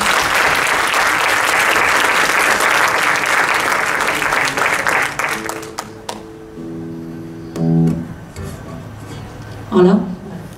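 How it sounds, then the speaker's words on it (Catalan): Strong audience applause at a women's day event in Navàs, dense clapping for about five seconds that thins to scattered claps, followed by a sustained tone and brief bursts of voices. "Un fort aplaudiment, si us plau."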